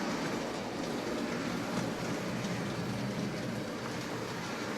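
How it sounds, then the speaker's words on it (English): A Hornby Dublo three-rail OO model train, a 1P engine pulling two grain wagons, runs at a slow freight pace, giving a steady, continuous whirring rumble with faint rail clatter throughout and no voices. "going to be trying to run this train with the 1P and the 2 grain wagons"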